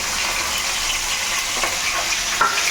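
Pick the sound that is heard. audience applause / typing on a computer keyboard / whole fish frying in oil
whole fish frying in oil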